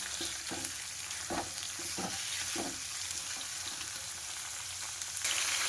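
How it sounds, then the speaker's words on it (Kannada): Onions roasting in a pan for mushroom and paneer gravy give a steady broadband sizzle, broken by several soft stirring scrapes and clacks, with no talking. "ಆನಿಯನ್ ಆ್ಯಡ್ ಮಾಡ್ತೀನಿ ನಾನು ಫುಲ್ ಆನಿಯನ್ ಹಾಕ್ಕೋಬೇಕು ಫ್ರೆಂಡ್ಸ್ ಈರುಳ್ಳಿ ಚೆನ್ನಾಗಿ ರೋಸ್ಟ್ ಆಗಬೇಕು"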